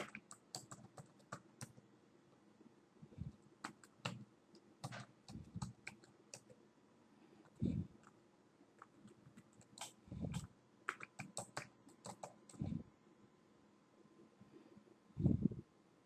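Keystrokes rattle on a computer keyboard as an email address is entered, coming in quick irregular bursts with short pauses and a few louder thumps, probably the space or enter key, close and clear with no talking.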